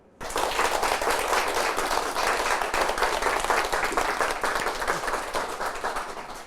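Sustained applause from an indoor audience at a Christian talk concert, loud and dense, starting abruptly and holding steady throughout without talk.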